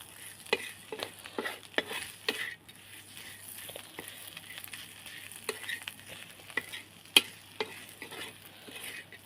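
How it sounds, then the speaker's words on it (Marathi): A green chili thecha mixture is stirred in a hot pan, with a steady, soft sizzle and a series of close scraping strokes at an irregular rhythm. "टाकून देते आणि मिक्स करून घेते"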